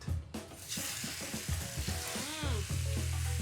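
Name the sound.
squid sauteing in oil for paella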